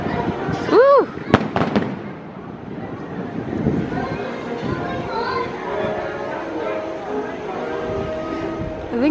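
Fireworks at the Epcot Illumination show, booming bursts and crackles at a distance beneath crowd noise, with a voice cheering near the start and people talking around.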